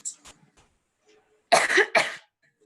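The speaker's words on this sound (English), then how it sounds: "Do stop coughing so" A burst of harsh, close coughing on stage in a live youth theatre play, two rough coughs in quick succession after a few faint murmurs and breaths.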